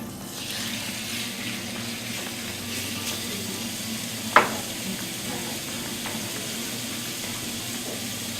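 Wild boar (cinghiale) goes into a 12-inch sauté pan and starts cooking with a steady, even sizzle throughout, broken once by a short, sharp clink near the middle.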